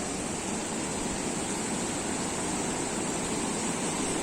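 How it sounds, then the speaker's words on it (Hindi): Small river in Solang Valley, Manali, flowing beneath a bridge among low shrubs, giving a steady, dense rush of water that holds even throughout with no voices. "पानी बहती है तो साथ ही साथ पानी बहने की आवाज़ भी सुनाई दे रही है।"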